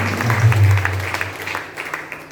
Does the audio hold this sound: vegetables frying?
no